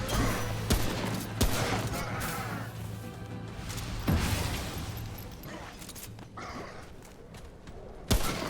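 Shooting in the game Remnant: From the Ashes against skull enemies: several sharp gunshots crack at irregular intervals over a busy, rumbling game soundscape, with one loud shot near the end.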